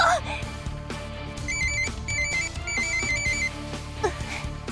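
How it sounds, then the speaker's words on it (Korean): A synthetic electronic ringtone in the video game Closers repeats a short warbling melody several times over a low musical background with occasional talk-like sounds. "갑자기 무슨 벨소리가..."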